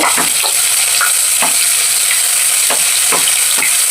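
Shallots, onion and green chilies fry in hot oil for a tuna fish curry, giving a loud, continuous sizzle broken by several scraping stirs.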